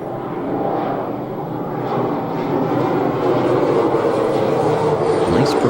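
A propeller airplane drones steadily overhead above a backyard garden, a loud continuous engine roar that holds and swells slightly as it passes, with no voices.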